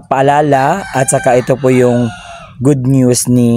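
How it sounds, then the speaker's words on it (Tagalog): A nearby chicken crows loudly in a home setting, its calls rising and falling in several bursts that overlap and alternate with a person speaking in Filipino. "Pasensya na po sa ingay ng manok."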